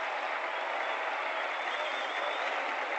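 A baseball crowd at the 1964 World Series, Game 2 between the Yankees and Cardinals, roars and applauds in a steady, dense wash of cheering that holds evenly from start to end with no talk.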